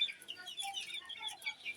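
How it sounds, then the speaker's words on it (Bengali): Roosters on a native chicken farm give repeated short clucks and squawks, moderately close and overlapping in an irregular rhythm, with no talking. "আমার এখানে কয়েকটা মোরগ আছে, বড় বড় মোরগগুলো আল্লাহর রহমতে অনেক সুস্থ আছে"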